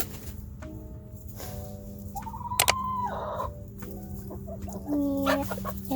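A backyard flock of chickens, chicks among the adult hens, clucks and squawks close by in scattered short calls over a low steady hum.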